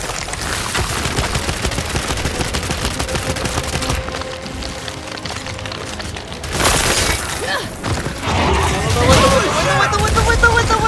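Rapid gunfire from Gears 5 rattles in dense bursts, broken by a loud impact partway through. Shouting voices and game effects carry over the shooting.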